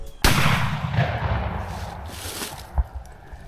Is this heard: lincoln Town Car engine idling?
no